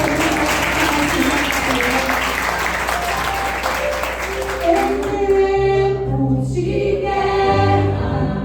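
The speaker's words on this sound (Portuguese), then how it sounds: "As palmas para o Senhor" A church congregation claps for several seconds, dense and fairly loud, then fades as organ or keyboard chords and a sung or spoken voice take over near the end.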